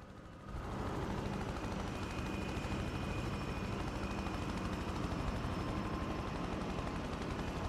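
Helicopter rotor and engine in the video game Prototype, a loud, steady droning whir that starts abruptly and holds constant throughout, heard alone.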